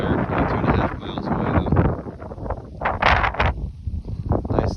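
Wind gusts buffet the microphone on an open hillside during a moose hunt, a steady low rumble with rustling bursts running the whole time, loud and close, while someone talks over it.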